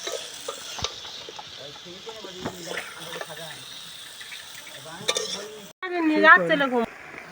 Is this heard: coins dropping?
no